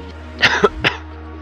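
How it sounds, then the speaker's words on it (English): Three quick, forceful coughs close to the mic, the first two bunched together and the third after a short pause, over a low steady hum. "really trying to hold back this cough"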